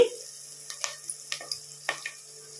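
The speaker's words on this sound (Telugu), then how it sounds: "ఇప్పుడు ఉల్లిపాయలు వేగిపోయాయి." Onions frying in a pan for a country-chicken curry, a quiet sizzle broken by several sharp stirring scrapes spaced through the moment, with no talking.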